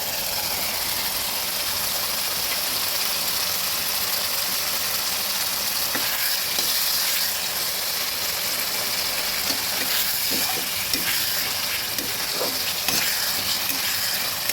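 Chopped tomato and three green chillies fry with spices in a pan, making a dense, even sizzle throughout with faint scraping and clicking from stirring, and no talk.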